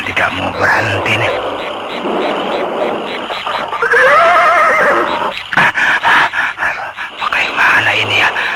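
A horse neighs loudly and repeatedly in a radio drama setting, shrill whinnies rising and falling over several seconds amid croaking frogs, a rainy backdrop and a few thuds.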